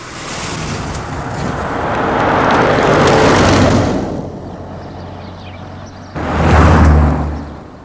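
Fast-moving road traffic passes close by, with a loud rising whoosh of one vehicle building and fading, a quieter gap, then another vehicle rushing past abruptly.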